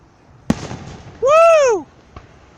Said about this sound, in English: Still more coming. Hopefully the finale's coming.